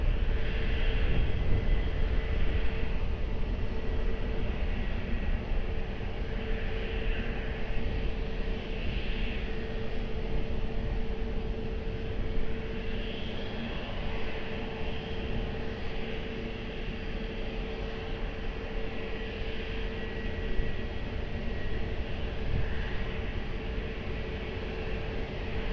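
An airplane taking off at Lisbon Airport produces a steady, loud engine roar with a broad rushing hiss that holds for the whole stretch with little change.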